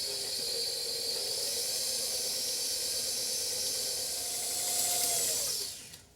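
A stand mixer with a paddle attachment mixes flour into a lemon blueberry loaf batter with a steady, even whirring hiss that keeps going without a break, swells slightly near the end and then stops, with no talking.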